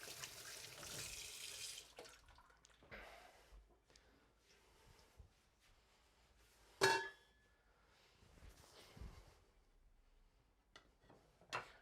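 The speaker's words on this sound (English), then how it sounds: "Give me just a moment to rinse my hands" Hands rinsed under a running kitchen tap: faint rushing water at first, then quiet dribbles and drips with a sharp clunk partway through, all fairly soft.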